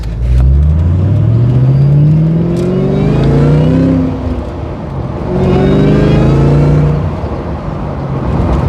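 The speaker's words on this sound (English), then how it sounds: "Do you like the sound of the supercharger?" A loud supercharged Ford Mustang engine revs up and down from inside the vehicle, with rising supercharger whine sweeping over a steady rumble of road noise.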